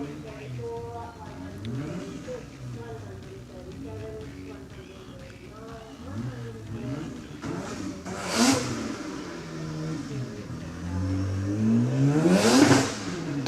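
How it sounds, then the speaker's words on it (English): Mazda RX-7 launching off the start line at a lakeside hillclimb in Australia, a mid-distance engine climbing repeatedly through rising revs with gear changes and growing louder, under continuous commentary. "Damien Malizani and his Mazda RX-7, who's going to have a red-hot crack now. He's just left the start line"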